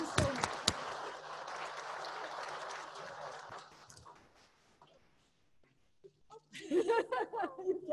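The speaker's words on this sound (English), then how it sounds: "A big applause to the speakers." Applause from webinar attendees, a dense burst of clapping with a few chuckles that fades to near silence before voices return.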